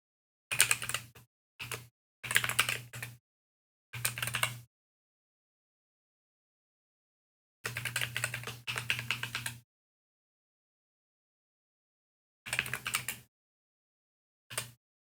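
Bursts of computer keyboard typing while an email address is entered, several short clusters of quick clicks separated by silent pauses, close and fairly crisp.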